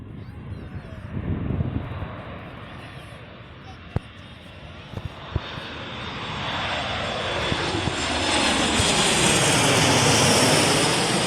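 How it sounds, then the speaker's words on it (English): A TUI Boeing 737 airliner flying past, its jet roar swelling from a distant rumble to a loud, close whine and rush, with a person talking over it early on. "we've got a Boeing 737, I think it's TUI, here it comes"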